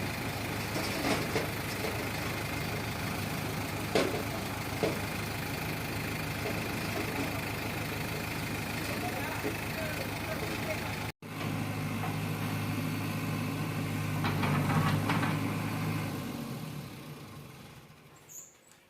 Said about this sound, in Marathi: खत टाकण्यासाठी जेशपी बोलवलं आहे